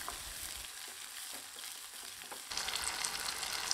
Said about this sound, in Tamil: இது கூடவே 15 to 20 சின்ன வெங்காயம் பொடியாக நறுக்கி வச்சுருக்கேன், இதை சேர்த்து நல்லா வதக்கி விட்டுக்கலாங்க